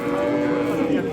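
A cow at the Yakkatut livestock bazaar in Izboskan, Andijan gives one sustained, loud, low moo, close by and filling the whole moment.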